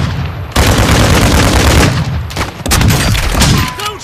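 Loud, dense gunfire in the DMZ video game, sustained rapid bursts that merge into a continuous roar with brief pauses, close and dominant.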